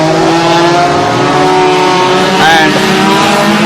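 Modified Honda 1500cc race cars on a gravel track, a loud, close engine roar with a sharp rising rev and a brief squeal in the middle.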